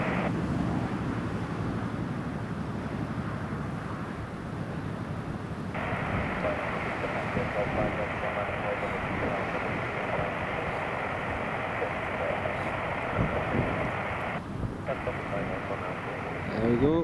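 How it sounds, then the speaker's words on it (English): An Aer Lingus airliner lands at Newcastle Airport on a windy day, a steady broad roar of engines and wind rising as it touches down and rolls out, heard continuously from a distance. "Here's the Aer Lingus."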